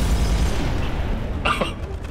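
A single short, sharp grenade blast from Halo 3 bursts out mid-clip over a low, rumbling game background, then fades quickly.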